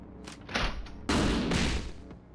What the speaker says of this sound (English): Very tempted to try execution by gunfire, see how it goes.